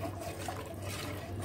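Vinegar water poured into warm ghee water to curdle it, a soft, faint trickle of liquid running steadily throughout.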